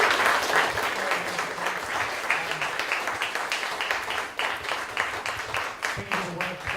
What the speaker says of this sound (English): Can y'all join me in giving them a round of applause?